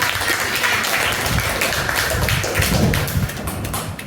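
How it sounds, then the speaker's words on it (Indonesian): Scattered clapping from a classroom of students during a practice lesson, uneven taps and thumps at moderate volume continuing for several seconds. "tepuk tangan untuk Pak"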